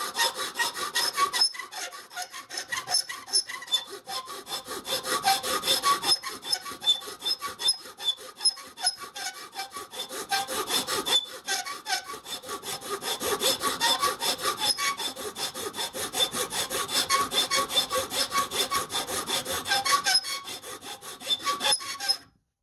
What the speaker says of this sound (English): I can't really use the rasp on this because it'll just break out all the wood. I've got to use the bastard file side on that